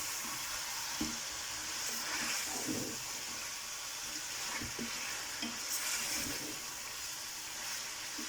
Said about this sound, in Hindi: अब इसकी भुनाई करेंगे अच्छी तरह।